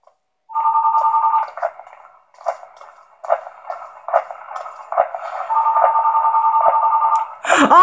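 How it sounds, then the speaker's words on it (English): A mobile phone rings during a horror game session in a mental hospital level, its electronic tone repeating in bursts for several seconds, loud and close, before a sudden sharp game sound cuts in at the end. "I heard the phone ringing and apparently that scared me."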